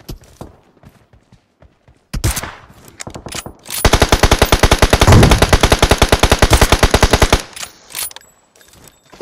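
Machine gun fire in the PUBG Mobile game on the Erangel map, a loud sustained burst of rapid rhythmic shots lasting several seconds, preceded by a sharp blast and followed by faint rattling.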